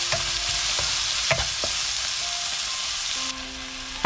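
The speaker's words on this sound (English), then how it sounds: "Mix again and cook for 2 to 3 minutes." Spinach and quinoa with dried tomatoes, Himalayan salt and pepper stirred in a hot pan, a steady sizzle broken by scattered utensil scrapes and clicks, close and continuous with no talking.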